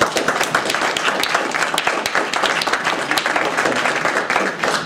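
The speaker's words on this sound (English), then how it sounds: "If we could all give him a big round of applause." Dense, steady applause from an audience at a talk on climate change and global security, many hands clapping together in a continuous wash for the whole stretch without a break.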